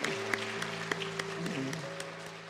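A church congregation at a Sunday afternoon worship service gives a short burst of applause, dense clapping with a few sharper claps, moderately distant and fading after about two seconds.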